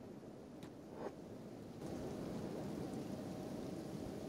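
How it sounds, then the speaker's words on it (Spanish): Acid rain falls in the video game Kenshi as a continuous faint wash of rainfall, with a couple of brief soft ticks early on and the downpour thickening slightly partway through. "hagamos un último esfuerzo a caminar por lluvia ácida"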